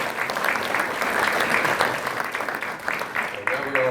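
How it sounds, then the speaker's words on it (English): Audience at a League of Women Voters supervisor candidate forum applauding steadily, a dense, even wash of clapping that holds loud for about four seconds, with a few voices mixed in. "so let's give him a round of applause"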